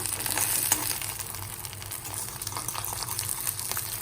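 An egg fries in a lot of hot oil, a dense, close crackling sizzle that holds steady throughout with a few brief pops, no one talking.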